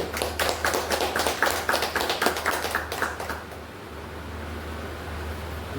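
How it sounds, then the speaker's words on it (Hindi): An audience at a business seminar claps in a quick burst of loud, crisp, overlapping hand claps for about three seconds, then the applause stops and a quiet room hum remains. "यही जोरदार ताली आप सभी के लिए होनी चाहिए।"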